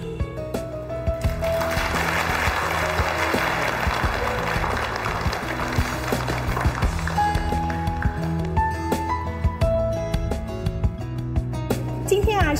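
Applause from a crowd at the opening ceremony of the Binhe advertising company, a dense, steady patter swelling over festive background music and fading as the music carries on.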